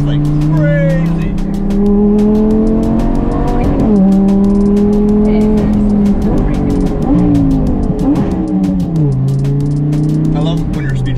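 Lamborghini supercar accelerating and braking hard, its loud engine note rising and dropping through shifts up close, with tire squeal and people talking over it.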